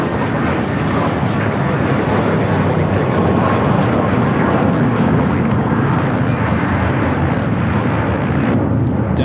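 A British Airways Boeing 777-300ER jet airliner roars loudly and steadily at an airport, its broad, rushing engine noise filling the whole stretch without a break.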